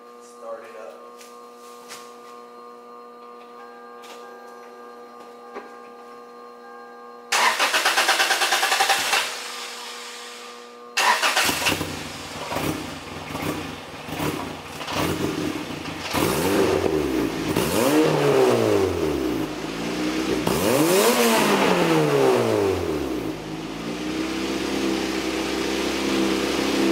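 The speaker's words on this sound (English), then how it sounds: "All right, let's go ahead and start up this MR2." A 2000 Toyota MR2 Spyder with a turbocharged 2ZZ-GE engine running 10 lbs of boost cranks and fires, then revs repeatedly in rising and falling sweeps. The engine is loud and close, after a quiet stretch with a steady electrical whine.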